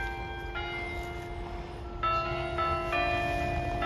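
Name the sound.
church bells ringing at Reykjavik church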